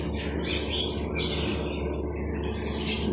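A hand-fed baby pet bird chirps in short bursts, a few bright calls at the start, middle and end over a steady low room hum, with no talking.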